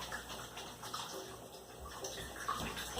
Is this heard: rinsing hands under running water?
yes